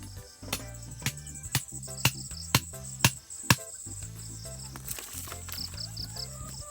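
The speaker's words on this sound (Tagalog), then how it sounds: "Maraming mga kuliglig." Dense cricket chirping rings out at night on a mountaintop, a steady insect trill with a series of sharp, loud clicks or knocks in a regular rhythm over the first few seconds.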